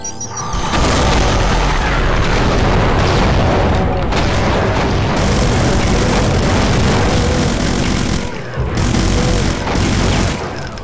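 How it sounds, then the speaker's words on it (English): A BFG blast in Brutal Doom 2 (GZDoom) on Ultra Violence: loud, dense roaring explosions and rumbling gunfire fill the whole stretch almost without pause, with brief dips before thundering back. "let off a BFG shot"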